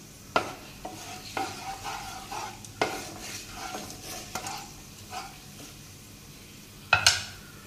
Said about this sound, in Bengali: এবারে দারচিনি লবঙ্গ দিয়ে দিলাম তেলে।